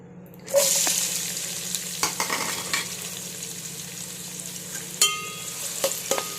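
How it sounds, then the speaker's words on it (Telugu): Onions drop into hot oil reused from frying chicken and sizzle steadily, with a loud burst at the start and occasional clinks and stirring knocks over the continuous crackle, no voices. "ఆయిల్ పోసాను నేను. అది వేగిన తర్వాత ఆనియన్స్ వేసేయండి."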